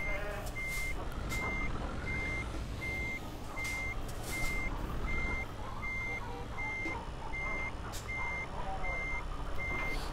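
Regular truck reversing beeps from Euro Truck Simulator repeat in a steady even rhythm over a continuous low engine rumble, loud and close, with no talk.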